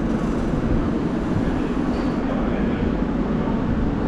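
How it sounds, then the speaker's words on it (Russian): An electric commuter train runs with a steady, loud rumbling drone of wheels and carriage noise, constant throughout with no talk. "Сел в электричку."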